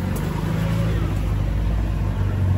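A supercharged 4.2 litre V8 Range Rover L322 drives along a narrow lane, its engine giving a steady, close, loud low rumble with no break across the stretch.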